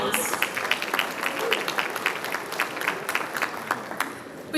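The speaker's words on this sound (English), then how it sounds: "Let's give them another round of applause." Audience applauding at an annual gala banquet in a hall after a performance, a lively patter of many hands with distinct sharp claps, moderately loud and continuing for several seconds.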